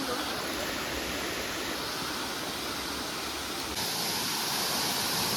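Water pours over a waterfall by Avyarud village, Astara, in a dense, steady rushing roar heard up close, swelling slightly brighter toward the end, with no talking.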